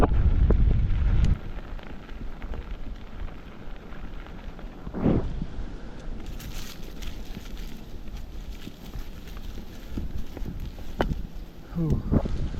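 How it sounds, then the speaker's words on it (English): Strong wind at a bike park in Davidson, North Carolina buffets a nearby microphone with heavy rumbling gusts, loudest at the start and again near the end, with brief bumps and rustles. "It's crazy windy."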